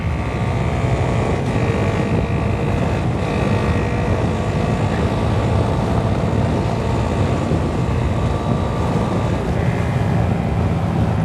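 A Honda Grom motorcycle ridden at full throttle, heard as a steady, loud engine drone mixed with heavy wind rush at the microphone, continuous throughout without talk.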